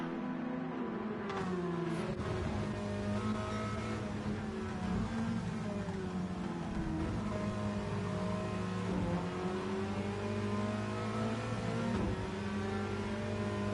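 Hot hatch race cars lap Brands Hatch circuit in a close race, engines droning and revving continuously with harmonic whine, cars passing near and loud throughout with no talk.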